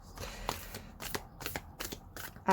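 Tarot cards shuffled by hand in a quiet room, a series of soft riffling and slapping bursts at an uneven pace, close and fairly faint, with no talking.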